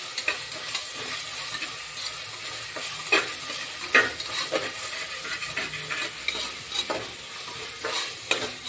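Tomatoes frying in a pan under a soft, steady sizzle, with repeated scraping clinks of a spoon stirring at irregular intervals and no talking.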